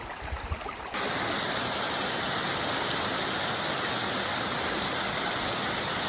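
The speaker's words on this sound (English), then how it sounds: "and there's a waterfall." A mountain-trail waterfall on Vermont's Long Trail pours in a loud, steady broadband rush, close by and unbroken after a brief quieter moment at the start.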